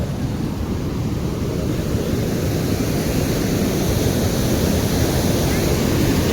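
Muddy floodwater rushes through a ditch in a dense, unbroken roar, loud and close throughout with no pauses.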